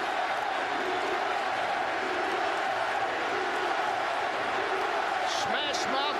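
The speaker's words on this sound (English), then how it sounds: "The crowd trying to encourage them." A rugby stadium crowd at a World Cup warm-up match between the United States and Australia roars steadily in the distance, a dense, continuous wash of cheering, with faint whistles and shouts near the end.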